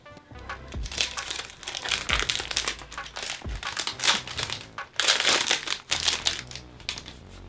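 Cellophane wrapper being peeled and crumpled off a 50 ml Calvin Klein CK Escape for Men eau de toilette box, giving close, loud crinkling bursts in irregular rhythm throughout.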